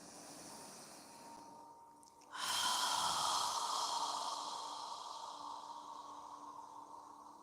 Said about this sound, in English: When you're ready to inhale, inhale. When you're ready to exhale, exhale.